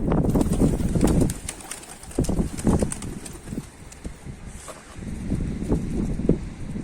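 Mardin baska pigeon cooing and bird sounds amid outdoor noise, with soft fluttering and clattering thuds at irregular intervals.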